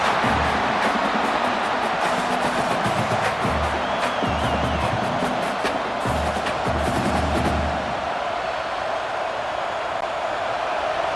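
A large stadium crowd in a college football video game roars steadily throughout, a dense wash of cheering and noise with low rhythmic thumps underneath.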